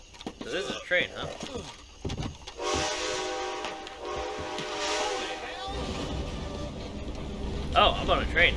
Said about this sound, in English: So this is a train, huh?